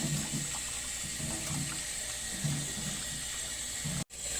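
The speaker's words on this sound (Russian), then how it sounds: "Теперь нужно их промыть холодной водой, чтобы убрать лишнюю кровь." Cold tap water runs steadily over cut-up chicken pieces in a sink, a continuous splashing hiss with soft irregular gurgles as the meat shifts, ending abruptly when the flow is cut.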